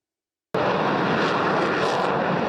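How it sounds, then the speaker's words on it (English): A Gripen fighter jet takes off from a new runway at Kecskemét air base in Hungary. The loud engine roar bursts in suddenly after a short silence and holds as a dense, steady rumble, with no voices. "A Gripen fighter took off from a brand new runway at the Kecskemét air base"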